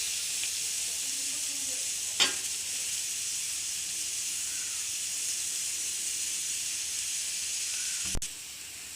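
Grated coconut sizzles in cold-pressed groundnut oil in a pan, a steady continuous hiss and crackle throughout, with a couple of brief clinks from a utensil.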